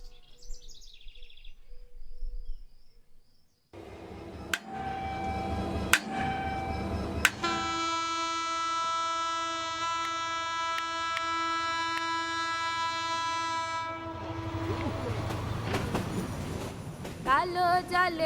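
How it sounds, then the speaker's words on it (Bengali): A departing passenger train at a station, with loud sustained horn blasts and metallic clanks, rumbling steadily as it pulls away, with faint birdsong early on and brief voices. "ট্রেন ছাড়ার সময় হয়ে গেছে, চলুন জনাব।"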